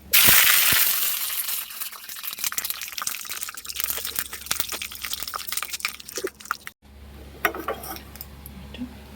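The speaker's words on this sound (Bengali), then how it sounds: "লাস্টে আওয়াজ হচ্ছিল কারি পাতাটা দেওয়ার সময়, ওটা কারি পাতা ছিল।" Curry leaves tossed into hot oil in a pan while panta bhat is prepared, giving a dense, close crackle and spitting sputter that runs steadily, then thins into scattered pops after a brief break.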